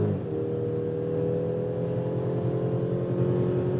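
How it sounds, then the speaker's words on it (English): Mercedes GLC 300 4MATIC SUV with a 2-liter four-cylinder accelerating from 100 to 140, heard from inside as a steady, smooth engine drone and road hum that rises gently. "So that was 100 to 140. Quick enough, definitely, with this 2-liter 4-cylinder."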